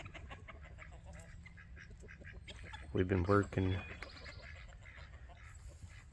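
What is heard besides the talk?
farm ducks and geese calling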